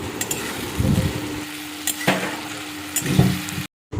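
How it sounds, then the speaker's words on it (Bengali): Paneer curry sautéing in a pan with chopped ginger and three green chillies, a steady sizzle with scraping stir strokes near the mic, ending in a brief silence. "এরপরে পুরোটাকে খুব ভালো করে কষিয়ে নিতে হবে"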